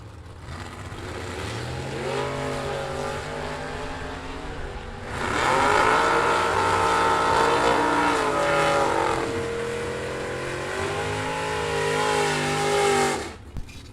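Bracket drag race cars launch and run down the strip, engines rising in pitch through the run with a loud surge as the cars pass, then cutting off abruptly at the end.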